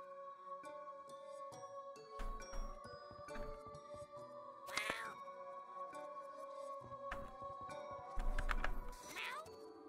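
Cat meows in the video game YIIK sound in short bursts over a steady layer of game music, with several louder cries spaced through the stretch.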